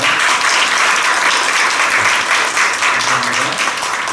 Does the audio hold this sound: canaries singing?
no